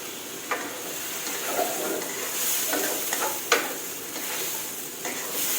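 Mushrooms stir-fried in a pan with shrimp and broccoli, a steady sizzle under repeated spatula scrapes and knocks at uneven intervals, close up and without talking.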